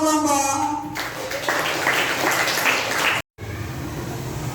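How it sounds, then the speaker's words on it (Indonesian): A classroom of student groups breaks into brisk applause, scattered claps giving way to a dense burst of clapping for about two seconds, then a brief gap before softer noise resumes. "Tepuk tangan untuk semua kelompok"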